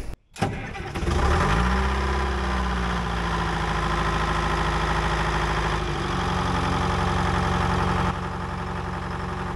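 A John Deere dozer engine that has sat unused for a long time cranks briefly, catches and settles into a loud, steady diesel idle with a slight knock, running close and alone.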